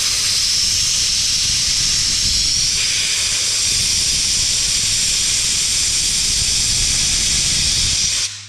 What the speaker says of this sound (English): Keep it pulsing, and then keep an eye on the end of the nozzle as you're blasting it. This is very loud